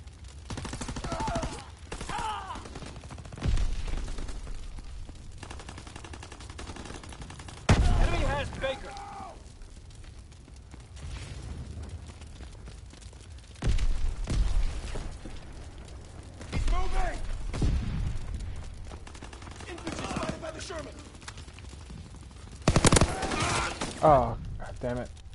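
Bursts of gunfire and explosions from the World War II video game Call of Duty WW2 on PS4 come in repeated loud volleys with quieter gaps between, while someone talks over the action.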